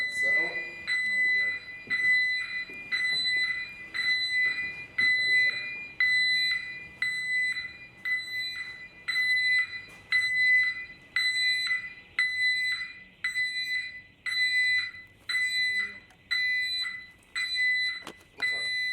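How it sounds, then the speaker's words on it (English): A fire alarm sounds inside an abandoned leisure centre: a shrill, high-pitched electronic tone pulses in a steady repeating rhythm for the whole stretch, loud and echoing. Voices talk faintly underneath. "There's going to be an alarm, it's going to be in this bit."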